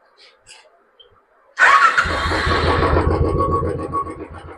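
A second-hand BS3 motorcycle engine starts up abruptly and settles into a loud, steady idle with an even low thumping, after a few faint, quiet sounds beforehand.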